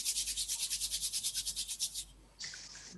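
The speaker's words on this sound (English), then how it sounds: "rub your palms, get some heat" Palms rubbed briskly together for warmth during a yoga class, a fast rhythmic swishing of about a dozen strokes, close and clear, then a pause and a brief final rub.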